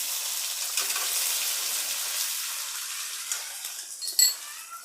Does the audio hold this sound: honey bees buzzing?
no